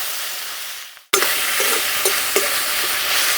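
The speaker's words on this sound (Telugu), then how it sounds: "నూనె వేడెక్కగానే బీన్స్, క్యారెట్, బంగాళదుంప ముక్కలు వేసుకుని వేయించుకుందాం." Beans, carrot and potato pieces are dropped into hot oil in a kadai and set off an abrupt, loud, steady sizzle, with a few soft stirring knocks.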